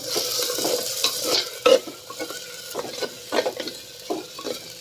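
Rice and other ingredients frying on low heat in a pan for majjige huli, a gentle sizzle with busy stirring scrapes and a louder knock near the middle, close and unaccompanied by speech.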